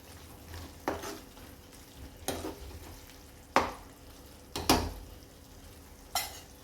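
Spinach curry cooked with onion and tomato is stirred in a pan after garam masala goes in, giving several soft scraping strokes with light clinks over a low sizzle, spaced about a second apart.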